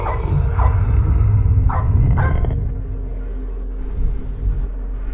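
Dog barks in a horror video game, a few sharp yaps over the first two and a half seconds against a steady low rumble, then only the rumble with a faint bark later.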